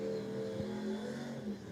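A turbocharged drag race car idles on the starting line at Cordova Dragway, a rough, lumpy engine burble with low pulsing tones and slight revs, steady and fairly close.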